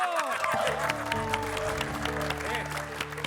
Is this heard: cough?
no